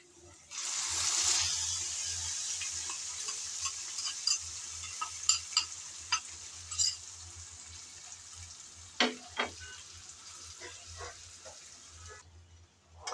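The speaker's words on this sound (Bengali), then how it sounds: "কিছুক্ষণ যাবত নেড়ে চেড়ে পেঁয়াজ আমি ভালো করে ভেজে নিয়েছি। এখন দিয়ে দেব বেটে রাখা মশলাগুলো।" Ground spice paste goes into onions frying for a cauliflower curry, followed by a soft sizzle and a run of scattered scraping stirs and knocks against the pan, moderately close with quiet gaps between strokes.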